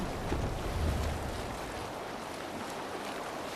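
A sailing ship moves over ocean waves in Assassin's Creed Valhalla, with a continuous rushing wash of water and wind, steady and fairly loud, and no talk.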